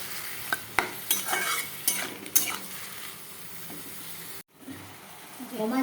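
Spice masala with tomato cooks in a wok, with scraping stirs and clinks against the metal over a soft sizzle, then a short break before the frying resumes.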